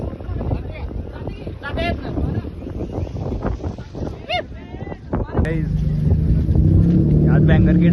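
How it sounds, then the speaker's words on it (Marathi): A car fitted with a banger exhaust kit at a drifting meetup on Masai Pathar: people talk over wind and crowd noise, then the engine settles into a loud, steady, close drone for the last few seconds. "यात बँगर किट आहे, जोरात आवाज होतोय या गाडीचा."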